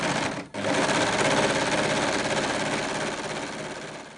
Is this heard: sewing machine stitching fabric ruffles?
yes